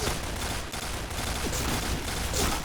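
Famas G2 firing in the shooter game Point Blank, a dense, unbroken stream of rapid shots that fills the whole stretch at steady loudness.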